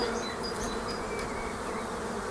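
Honeybees buzz steadily and densely throughout during a hive transfer, a continuous close insect drone with no voices.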